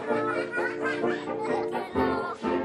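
Several ducks quack nearby in rapid overlapping bursts, a busy chattering cluster with no pause.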